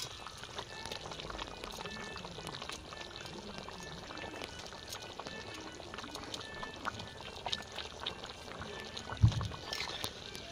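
Water is poured into a pan while rohu fish cooks, making a faint, continuous trickling and splashing with soft kitchen noise around it and a brief louder knock near the end.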